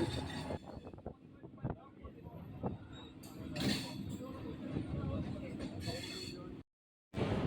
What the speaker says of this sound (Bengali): ট্রেন এখন নিজের গতিতেই ছুটে চলেছে